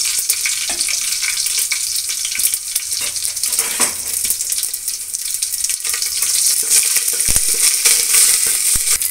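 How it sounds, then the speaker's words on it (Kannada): Mustard seeds, curry leaves and onion hit hot oil for a tempering, giving a loud, continuous close sizzle and crackle with occasional stirring scrapes, no voices, lasting throughout. "ಸಾಸಿವೆ, ಕರಿಬೇವಿನ ಸೊಪ್ಪು, ಈರುಳ್ಳಿ, ನೋಡಿ ಈ ಮೂರನ್ನು ಹಾಕ್ತೀನಿ. ಒಗ್ಗರಣೆ ಕೊಡೋಣ"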